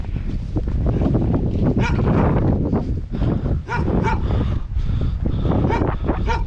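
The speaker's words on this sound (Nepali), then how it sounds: "भोटे कुकुरहरू भाउ गरेर रहेछ" Several Bhote dogs, a Himalayan guard breed, bark repeatedly along a mountain trekking trail in Nepal, with loud, close, overlapping woofs and yips in an irregular rhythm.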